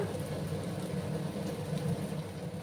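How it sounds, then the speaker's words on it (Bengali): Sliced onions fry in a pan for a spiced potol and egg dish, giving off a steady, dense sizzle that stays even throughout with no talk over it. "একটু সময় আমি পেঁয়াজগুলোকে ভেজে নিচ্ছি বন্ধুরা।"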